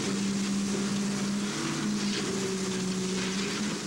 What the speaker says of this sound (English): This is the latest ice weapon in the whale rescue, the Archimedes screw tractor.